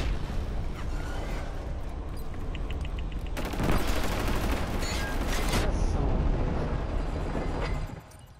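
Gunfire and a grenade blast fill a match of the shooter game Killzone Shadow Fall, with dense rapid firing that swells into a loud roaring burst midway before cutting off abruptly at the end.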